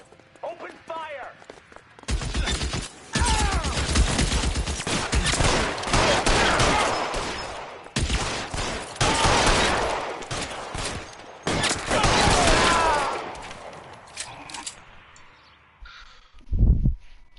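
Gunfire rattles through a shootout in the L.A. Noire video game, with loud bursts of shots in several dense clusters and a strong thump near the end; voices speak between the volleys.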